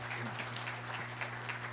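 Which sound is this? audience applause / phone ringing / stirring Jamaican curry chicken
audience applause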